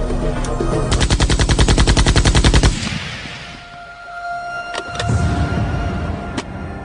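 Rapid burst of gunfire at a street phone booth on West 23rd Street, a fast regular volley of shots for about two seconds, followed by scattered single sharp cracks amid quieter street ambience.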